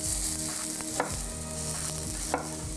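Squash slices seasoned with salt and pepper sizzle steadily in a frying pan, a constant close frying hiss with a few faint clicks and scrapes and no talk.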